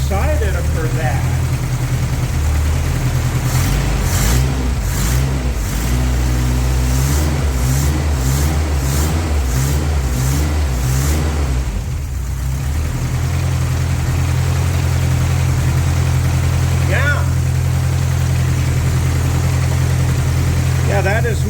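A 1984 Toyota pickup engine, restored after flood damage, running and settling into a steady idle: a close, even low rumble that wavers slightly in pitch early on, then holds a smooth drone to the end.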